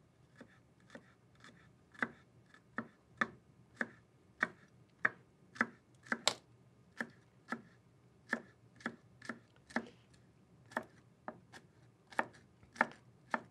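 Vegetables being finely chopped on a board for crab cakes, crisp knife strikes in a steady irregular rhythm, close and clear with no talking.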